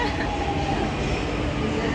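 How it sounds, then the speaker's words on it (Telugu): A train arriving at a station, with a steady rumbling roar of rail cars and a faint high squeal, close and constant for the whole moment. "అందులోనూ మా ట్రైన్ వచ్చింది"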